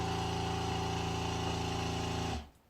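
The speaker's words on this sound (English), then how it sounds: "the compressor will start to push air into the cushion" A Mangar Leglifter compressor hums steadily as it pumps air into the cushion, a constant close mechanical drone that cuts off abruptly near the end.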